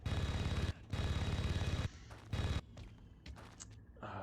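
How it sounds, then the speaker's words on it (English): Precision rifle firing in Red Faction on PlayStation 2, loud sustained bursts of rapid shots with short pauses, then scattered smaller game effects. "Favorite gun in the game, the precision rifle."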